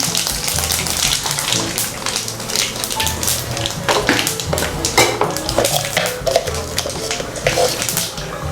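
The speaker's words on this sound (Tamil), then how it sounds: "கொஞ்சமாக வந்து கடுகு போட்டுக்கிறேன் கொஞ்சம் வடகம்" Mustard seeds and vadagam crackling in hot oil for a kuzhambu tempering, a dense close spattering sizzle with frequent sharp pops and occasional clinks of a utensil against the pan.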